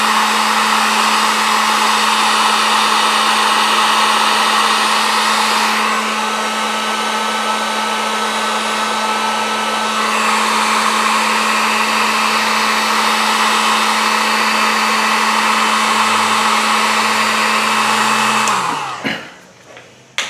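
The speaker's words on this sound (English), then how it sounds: "applied heat with the heat gun, and I'm going the extra mile and putting one of these heat shrink insulators on top of that" A heat gun shrinks heat shrink insulators over wire connectors on a tractor wiring harness, its loud steady blowing whir running continuously for about nineteen seconds before it switches off and winds down.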